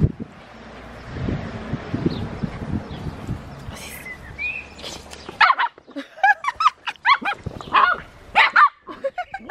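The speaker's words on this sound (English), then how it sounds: "You're barking at me." A dog barks in short sharp bursts close to the microphone after a stretch of windy outdoor rumble and faint voices.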